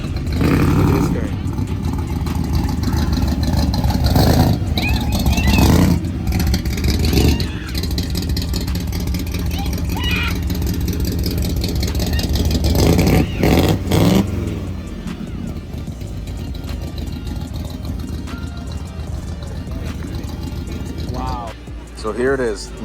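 Lamborghini Aventador engine revving loudly in repeated bursts at close range, over a crowd of excited onlookers talking and cheering, with the engine settling between blips.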